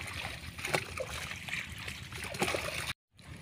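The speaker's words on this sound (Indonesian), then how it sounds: "kita siram dulu media tanah sebelum kita tanami kacang panjang" Water splashing and trickling onto dry, hard garden soil before long beans are planted, a steady close gurgling wash for about three seconds that cuts off briefly near the end.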